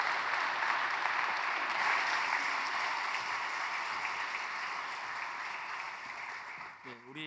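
At a Presbyterian church in Ulsan, the congregation gives sustained, full applause to welcome newly baptized high school members, dense and even, tapering slightly before a brief voice-like sound at the close.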